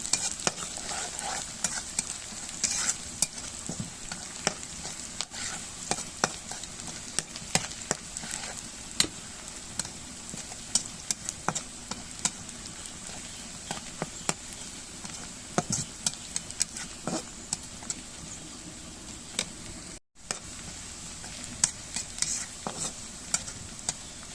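Chopped garlic, onion and a few dried chillies sizzle steadily in a pan for drumstick-leaf fry, with frequent light stirring clicks and scrapes over the continuous crackle, close and moderately loud with no talking.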